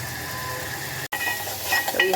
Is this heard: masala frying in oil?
yes